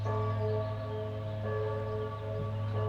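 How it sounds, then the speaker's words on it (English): Church bells ring across a Swiss valley on a morning, a steady sustained peal with layered tones echoing at a moderate distance. "Church bells are going off this morning."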